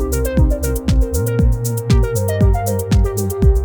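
A pattern plays on an Elektron Digitone synthesizer: a steady electronic groove with punchy bass notes and sliding tones under bright hi-hat ticks, loud and up close with no voices.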